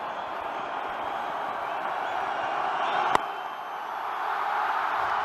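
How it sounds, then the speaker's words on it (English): Cricket crowd at an India versus Pakistan one-day international, a steady roar of distant spectator noise swelling slightly after a single is run, with a brief sharp clap-like crack midway. "A bit of excitement from the crowd"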